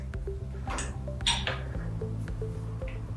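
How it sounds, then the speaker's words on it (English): Mechanism of a Rotork IQ3 valve actuator as its side lever engages the hand wheel, giving the hammer blow effect: faint repeated metallic clinks and knocks over a steady low motor hum. "the noise you hear is the hammer blow effect of the hand wheel"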